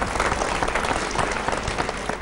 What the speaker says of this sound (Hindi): प्रफुल्ल के लिए तालियां।